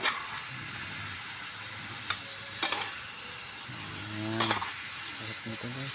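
Food frying in a pan is stirred steadily: a continuous close sizzle with scraping utensil strokes against the pan, a few sharper clatters, and a voice briefly audible underneath.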